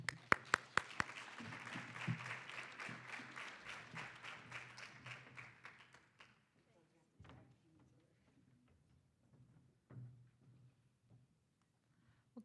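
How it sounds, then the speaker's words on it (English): An audience at a community event claps in a dense burst of applause that is loud at first, thins and fades away after about six seconds, leaving scattered quiet sounds. "How about a great round of applause?"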